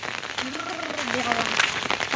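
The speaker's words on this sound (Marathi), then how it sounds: "पाऊस जोरदार लागलो" Heavy monsoon rain falls outdoors in a Konkan village, a dense continuous hiss with a person talking over it.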